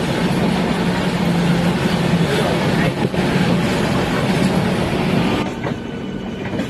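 An express train rolling into Howrah station, a loud continuous rumble of wheels on rails heard from inside with faint clatter, steady throughout and easing slightly near the end.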